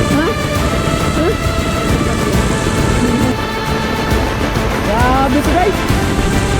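Heavy typhoon rain pours down in a flooding neighborhood as a loud, constant roar that fills the whole stretch, with faint voices and chirps under it.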